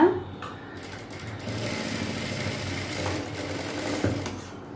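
Sewing machine stitching folded blouse fabric, a steady close mechanical whirr with rapid needle chatter running continuously, a faint thump near the start.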